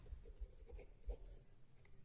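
Marker or chalk strokes scratch and tap across a board during an arithmetic progressions maths lesson, a few soft, close, irregular writing sounds over a quiet room.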